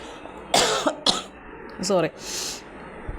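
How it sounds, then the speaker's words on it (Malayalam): A person coughs a few times in short bursts between stretches of speech. "കുറച്ച് സംസാരിച്ച് കഴിയുമ്പോൾ ചുമ വരുന്നുണ്ട്."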